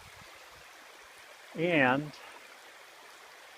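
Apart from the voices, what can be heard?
cascading waterfall in a flume, Crawford Notch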